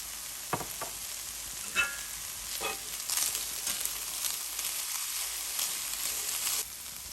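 Olive oil sizzles in a pan while pepper powder and chili flakes are stirred in. A steady frying hiss runs throughout, broken by a few utensil taps and scrapes near the start.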